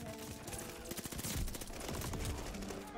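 A STEN submachine gun fires in Call of Duty Vanguard, with loud, rapid bursts of shots crackling close over a dense, busy game soundscape, and no one speaks.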